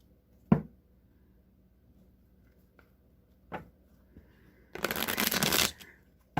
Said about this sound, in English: I'm going to shuffle these 3 times